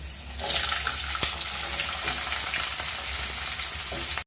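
Raw tomatoes and fried potatoes with onion hitting hot oil, bursting into a loud, steady sizzle that holds on without a break and cuts off abruptly at the end; no talking.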